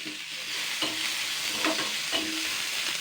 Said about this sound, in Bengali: পেঁয়াজটা এবার আমি জাস্ট দুই মিনিট মতন হালকা নাড়াচাড়া করে নেব